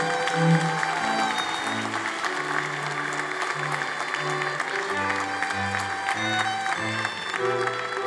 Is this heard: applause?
yes